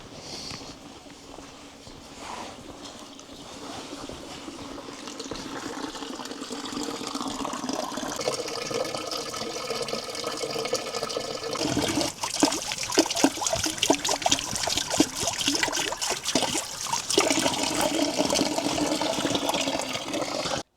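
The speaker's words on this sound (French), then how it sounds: "Je vais me rincer les mains maintenant." Water runs from a tap while hands are rinsed under it outdoors, a steady splashing flow that grows louder with uneven spatters, close by.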